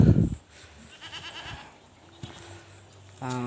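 A goat bleats once up close, a short wavering cry set against quiet background noise, with a brief rustle at the start.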